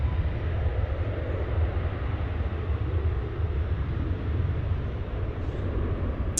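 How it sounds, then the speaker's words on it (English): An Alaska Airlines Boeing 737 departs DFW airport, a steady broad jet engine roar with a deep low rumble that holds at an even, moderately loud level throughout, with no voices over it. "Alaska departing back to the West Coast there in a 737,"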